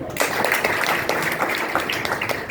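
An audience in a hall applauds loudly and steadily, with dense, continuous clapping that holds at an even level from start to finish.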